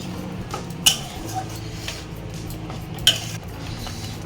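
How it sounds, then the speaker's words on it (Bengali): Spice masala being stirred and fried in a pan over a medium gas flame for a prawn malai curry, a soft continuous sizzle with two sharp metallic clinks of the spoon against the pan. "এখন খুব ভালোভাবে সমস্ত মশলা আমি কষিয়ে নেব"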